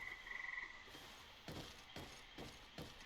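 Swamp frog croaks in GreedFall: a few short, raspy croaks come at irregular intervals against quiet game ambience, with a brief faint chirp near the start.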